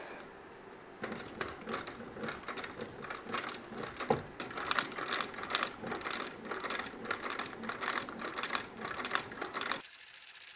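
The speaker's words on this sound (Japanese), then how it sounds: "そしたらトップライン縫います。" A sewing machine stitches the topline of a box calf leather shoe upper, a rapid mechanical clatter running steadily for about nine seconds in close, even bursts before it stops abruptly.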